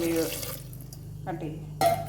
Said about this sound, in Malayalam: ഇതിലേക്ക് നമുക്ക് ആവശ്യത്തിനുള്ള വെള്ളം ഒഴിക്കാം